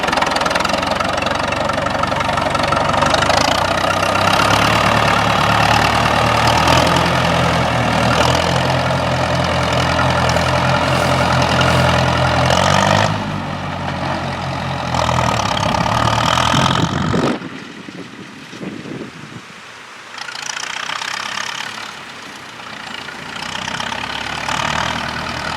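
A vintage Ferguson tractor engine runs with a steady, knocking chug for most of the stretch, then cuts off abruptly and goes quiet before a lower running sound returns.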